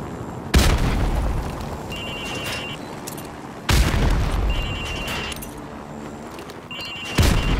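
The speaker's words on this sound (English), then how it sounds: "throw a grenade into windows 2, 3 and 4" Three heavy grenade blasts go off in a Call of Duty: Modern Warfare Remastered training range, each a loud booming burst that rumbles and decays over a few seconds, spaced roughly three seconds apart.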